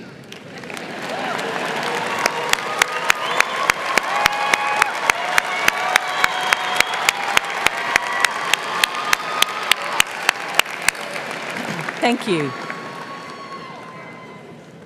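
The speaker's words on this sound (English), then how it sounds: "give a round of applause to those who've supported you through this journey" A graduation ceremony crowd applauds in a large hall, a dense sustained clapping with sharp, regular bangs or thumps punctuating it, and a brief spoken thanks near the end as the ovation fades.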